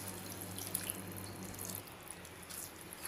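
Water pours steadily into a pan of ridge gourd masala curry, a continuous close splashing trickle heard alone at low level.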